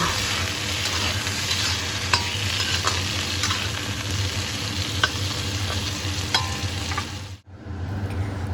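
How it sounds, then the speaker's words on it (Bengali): Thin potato slices fry in oil without salt or turmeric while being stirred, a dense steady sizzle broken by sharp scraping clicks from the spatula, dipping briefly near the end before resuming. "এই তেলের মধ্যে পাতলা পাতলা করে কেটে রাখা আলুর টুকরোগুলো দিয়ে লবণ ও হলুদ গুঁড়ো ছাড়াই ভালোভাবে নেড়ে চেড়ে একটু লাল লাল করে"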